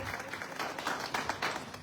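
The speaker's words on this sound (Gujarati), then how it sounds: "એક વખત એમને પણ તાળીઓથી વધાવો" Audience applause at a political public meeting in the Jetpur assembly constituency, a short burst of scattered hand clapping heard at moderate distance, rising in a few louder pulses over under two seconds.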